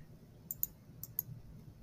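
A computer mouse clicks a handful of times while working in Canva, crisp light taps spaced irregularly over a quiet low hum.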